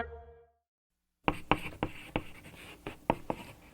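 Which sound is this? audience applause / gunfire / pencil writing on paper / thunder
pencil writing on paper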